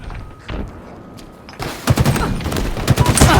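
Bursts of automatic gunfire from a competitive video game match in a tournament final, sparse at first then dense and rapid, loud and close, with clustered shots and impacts.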